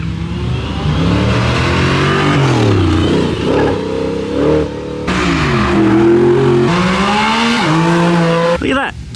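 A Lola race car powers up a hill climb course, its engine note rising and falling through several gear changes, loud and close with a sharp rasp, while people talk over it.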